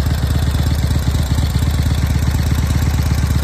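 Harley-Davidson 883 motorcycle engine idling close by, a loud, steady low rhythmic thumping with no talk.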